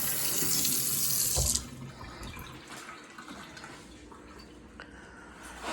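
A hot water tap runs loudly into a kitchen sink for about a second and a half, then shuts off, leaving a quiet room with a few faint drips and clicks.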